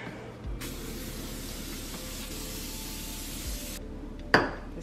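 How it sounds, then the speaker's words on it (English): A steady, soft hiss of a coconut oil cooking spray runs for a few seconds, then stops, followed by a sharp clink of a pan. "I'm gonna use this coconut oil spray to spray it."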